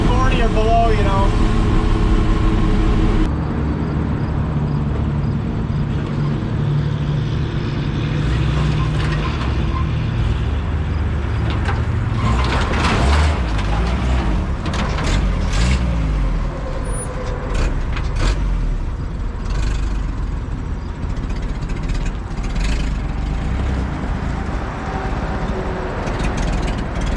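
A 1962 Ford F600 truck drives along with a steady, loud engine drone and low rumble throughout, with a voice talking over it.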